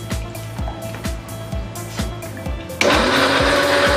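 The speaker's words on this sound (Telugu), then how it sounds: "వీటన్నిటిని కలిపి మెత్తగా పేస్ట్ లాగా మిక్సీ పట్టుకోవాలి." A kitchen mixer grinder whirs with a pulsing, rhythmic churn while grinding curry masala paste of mixed ingredients with salt and a little water, then jumps abruptly to a louder, steady high-speed roar near the end.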